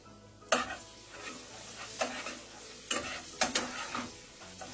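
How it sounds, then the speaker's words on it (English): Garlic sautéing in butter in a pan sizzles under repeated scraping and stirring strokes, about half a dozen sharp clinks of utensil against pan standing out over a soft, continuous fry. "So we just sauteing the garlic first before I add the scallion."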